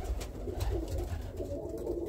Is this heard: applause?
no